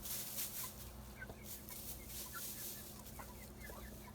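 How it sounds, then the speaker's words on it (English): Chickens cluck steadily in a coop, with a small rooster and chicks adding short, scattered calls over a constant background hum. "the little rooster in the back. Some chicks."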